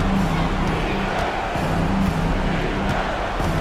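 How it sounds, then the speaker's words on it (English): A basketball arena crowd roars in a frenzy, a dense, loud, continuous wall of cheering and shouting throughout with no gaps. "And the crowd now is in a frenzy."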